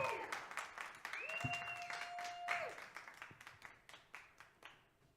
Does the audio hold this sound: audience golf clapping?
yes